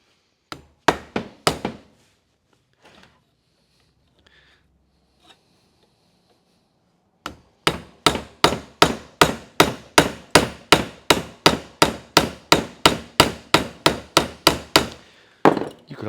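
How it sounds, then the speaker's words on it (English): A hammer peens a rivet over on sheet metal against a dolly bar for an Art Deco lamp: a few sharp blows, a pause, then a long run of steady, evenly spaced loud metallic strikes up close. "We're going to put this rivet in from the inside. I like that, man. We're going to peen it over."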